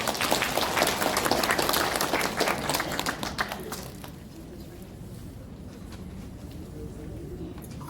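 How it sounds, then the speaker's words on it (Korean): Applause greets a member of parliament at a Geumcheon district Saemaul leaders' evaluation event, a full crowd clapping loudly for several seconds before it thins and fades to a low murmur. "큰 박수로 맞이해 주시기 바랍니다"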